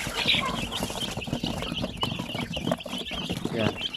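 Chicks in a coop with a hen, noisy as they wait for their thrice-daily feeding, keep up a continuous busy chatter of peeps and clucks with scattered sharper calls and background clatter.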